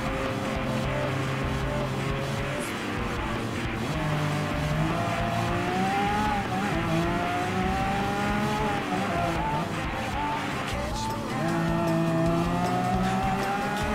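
Lamborghini race car in the GT Sport video game: a loud, continuous engine howl with rising and falling gear changes through 14 seconds, tyres squealing at intervals and other cars close by, no talk.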